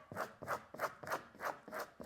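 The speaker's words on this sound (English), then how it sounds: "At the very end, just kind of take your squeegee" A squeegee presses vinyl lettering onto an orange-peel textured wall with quiet, rhythmic rubbing strokes, about seven close scrapes in two seconds, with nothing else audible.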